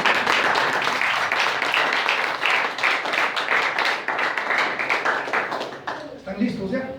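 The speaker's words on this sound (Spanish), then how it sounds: "¿Puede darle un aplauso al Señor," A church congregation claps for the Lord, a close, dense burst of applause that runs steadily for several seconds, thinning toward the end as a few voices are heard.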